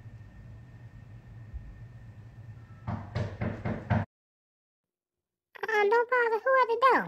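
Several firm knocks rap on a door in a quick cluster indoors over a low background hum, followed by a brief silence and then a person talking.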